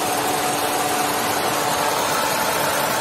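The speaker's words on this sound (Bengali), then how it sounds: "গাড়ি স্টার্ট দেওয়া আছে। আপনাদেরকে দেখানোর উদ্দেশ্যে আমি স্টার্টটা দিয়ে রেখেছি" A 2004 Toyota X Corolla with a DVVT engine runs at idle, a steady, even drone with a faint hum and no speech.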